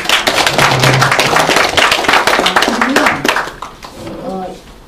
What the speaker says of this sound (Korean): 오늘 수고하신 강사님께 박수 한번 부탁드립니다.